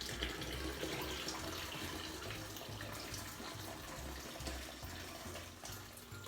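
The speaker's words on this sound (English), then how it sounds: "Just going to pour that into the sink here." Hot water from a kettle pours steadily into a bathroom sink before a wet shave, a continuous close trickling and gurgling stream with no talking.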